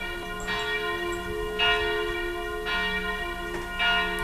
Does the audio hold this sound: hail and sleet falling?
no